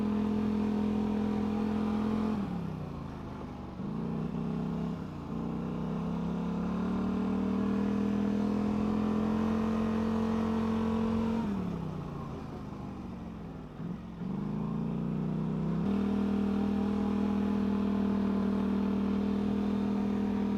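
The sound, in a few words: Polaris Scrambler and Can-Am Renegade ATV engines riding a lap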